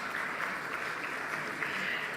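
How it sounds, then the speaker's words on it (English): Steady applause from an audience at a bank awards ceremony, honouring the jury members; dense, continuous clapping fills the hall at moderate level throughout, with no speech over it. "I think it's time for an applause for them"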